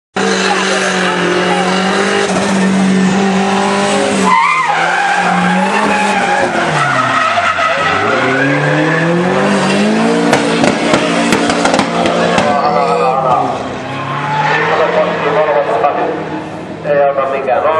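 A Volvo drift car at a drifting championship at Kemora, its tires skidding and squealing in long sustained howls over a loud, revving engine, with a commentator talking throughout.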